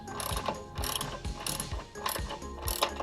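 On a 2005 Chrysler 300, a stabilizer bar bushing bracket is clamped down with steady, close ratcheting clicks in a repeating rhythm of short bursts.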